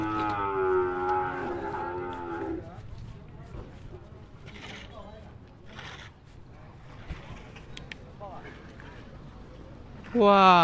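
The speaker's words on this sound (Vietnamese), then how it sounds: "Bò." Cattle at the Bac Ha livestock market give a loud, drawn-out moo for about two seconds, then a second rising call bursts in at the end, over a steady murmur of market crowd noise.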